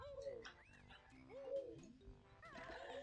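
Croaking frog from Banjo-Kazooie, several short swooping croaks in irregular bursts against a low humming game background, clear and alone without voices.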